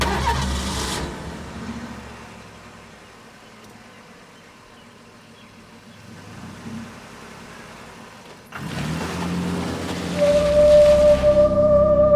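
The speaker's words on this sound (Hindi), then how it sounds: "मैं जानती हूँ ये गाड़ी स्टार्ट नहीं होगी।" A car engine cranks repeatedly without catching, a grinding mechanical churn that fades, pauses, then returns louder near the end with a steady whine, no voices over it.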